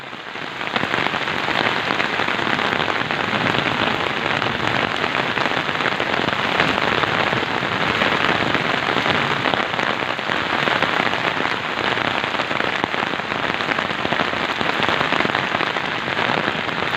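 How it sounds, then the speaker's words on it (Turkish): Intense rain and hail beat down without pause in a village, a loud, dense rush of impacts close by. "Şu an dolu yağıyor arkadaşlar."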